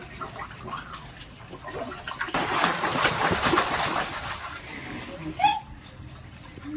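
A child plays with water in a bathtub at home, with soft sloshing that turns into a louder burst of splashing for a couple of seconds, then settles back to gentle water movement.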